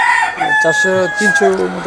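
A hybrid Sonali chicken on a laying farm of about four hundred hens crows loudly and close, a single drawn-out call with clucking, and no talking over it.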